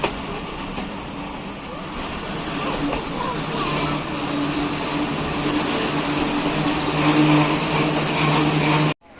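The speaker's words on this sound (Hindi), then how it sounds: "क्वाड एक्सप्रेस पहुंच गई है जी दोमेल।" The Kohat Express train rolls into Domel in Pakistan with a loud, steady rumble of wheels and carriages that builds gradually before cutting off abruptly, and faint voices can be heard in the background.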